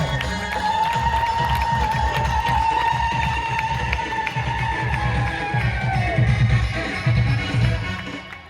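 Dense, loud crowd applause with a sustained high ululating hulhuli cry carries steadily throughout, rising slightly near the end, from the audience at a church pilgrimage at Partamaha on its last day.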